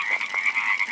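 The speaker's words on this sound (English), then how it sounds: "The sounds these frogs make" Frogs croak near a natural spring by a cave, a dense, loud chorus of overlapping calls pulsing steadily and close, with no talking.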